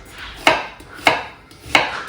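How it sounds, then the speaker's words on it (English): A knife dicing an onion on a cutting board, three sharp, evenly spaced chops roughly half a second apart, close and distinct against a quiet room. "I'm slicing my onion into strips and then slicing it again the opposite direction to make some diced pieces"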